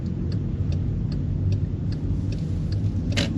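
A car drives in first gear through a U-turn on a narrow road, its steady low engine rumble continuous and close, with a faint regular ticking from the turn indicator over it.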